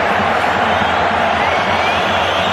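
Football stadium crowd at a Real Madrid versus Osasuna match, a dense continuous roar of cheering and whoops from thousands of fans, loud and sustained, with commentary voiced over it.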